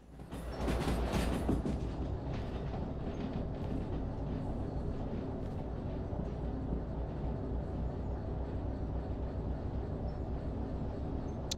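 A train rumbles steadily along the track in the Derail Valley railway game, a continuous loud rolling roar with faint clickety-clack and metallic rattles, no voices.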